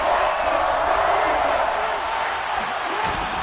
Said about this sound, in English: This crowd dying for a stop.